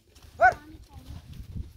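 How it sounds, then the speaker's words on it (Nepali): A pair of oxen ploughs a village field in Nepal: a short, loud call rings out early, then low, uneven thuds and shuffling follow at a moderate distance. "यसरी चाहिँ यहाँ गोरु जोतिन्छ"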